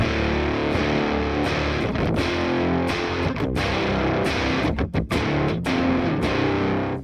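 Heavily distorted electric guitar chords played through two distorted amps with almost no effects, continuous, thick and loud with a gritty overdriven tone and brief pauses between strums.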